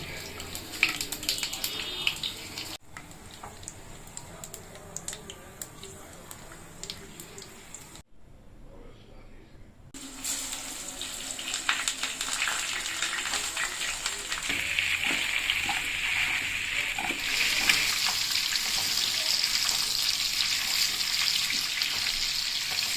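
Dried chillies and panch phoron frying in mustard oil in a wok, giving a steady crackling sizzle that cuts out briefly, then returns louder and fuller, heard close up.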